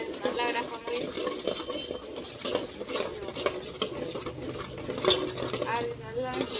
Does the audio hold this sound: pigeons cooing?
no